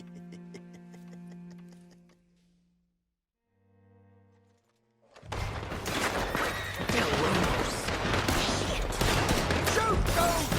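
Gunfire in Red Dead Redemption 2, a western game with a shootout in town, comes in a dense, loud barrage of overlapping shots that starts about halfway in. Before it there is quieter tonal game sound and a brief lull.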